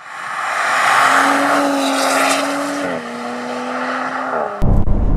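An Audi RS4 Avant with the engine and gearbox in aggressive mode being driven hard: a loud, rising engine drone with two quick gear changes that drop the pitch, then a sharp burst at the end.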